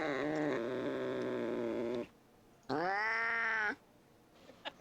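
A cat lets out two loud, drawn-out caterwauling meows up close, separated by a short silence, followed by faint small noises.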